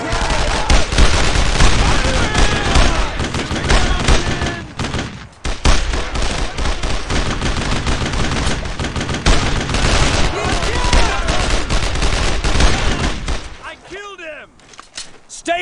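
Heavy rifle and machine-gun fire from a World War II shooter game, Brothers in Arms: Road to Hill 30, rattles in near-continuous loud bursts, with shouted soldier voices over the battle and a brief lull near the end.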